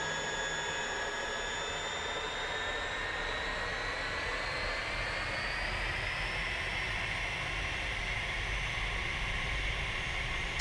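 A jet aircraft's engine roars at takeoff in the DCS World flight simulator, a loud, continuous, dense roar with a faint rising whine above it, unbroken throughout.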